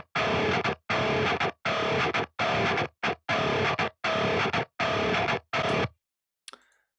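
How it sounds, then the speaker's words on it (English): High-frequency split of a heavy metal bass tone, carrying distortion: bright, fizzy, loud chugging bursts in a steady syncopated rhythm, then a faint brief tick after they stop. "The low frequency on one track and the higher frequencies on the other track."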